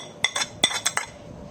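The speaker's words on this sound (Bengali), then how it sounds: "এখানে শুকনো ইনগ্রেডিয়েন্টসগুলো সবগুলো আমি দিয়ে দিচ্ছি বেসন আর চালের গুঁড়োতে" Dry spices go into a bowl of gram flour and rice flour for taro fritters, bringing about five quick, bright metallic clinks of a spoon against the bowl in two close pairs and a final tap, near and with no speech.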